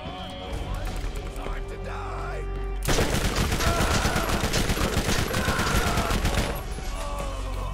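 Rapid submachine-gun fire from the Borderlands shooter on PC, a loud dense burst of shots lasting several seconds after a quieter stretch with voices and game sounds, then fading back.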